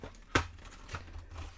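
A plastic bag crinkles during the unboxing of a Hasbro G.I. Joe Classified Series Outback action figure, one sharp close rustle followed by a few fainter crinkles.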